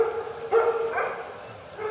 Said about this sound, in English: every time I hear these dogs barking